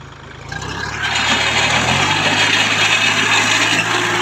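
A three-cylinder farm tractor engine runs up close, rising from a low chug into a steady loud mechanical drone with a rough, clattering edge.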